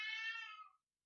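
A house cat gives one clear, close meow lasting under a second, rising then trailing off into silence.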